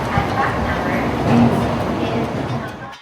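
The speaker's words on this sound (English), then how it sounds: "The bullet train to Kyoto feels like traveling through time itself." Bullet train travelling to Kyoto, a steady interior rumble and rolling hum that swells midway and fades at the end, with talk mixed in over it.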